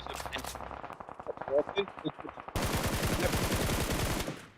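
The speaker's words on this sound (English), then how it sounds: "Shots from Hamodi trying to open that door" Rapid bursts of automatic gunfire from the mobile battle royale game PUBG Mobile in a tournament match, first mixed under a commentator's talk, then a loud sustained volley of shots for the last two seconds.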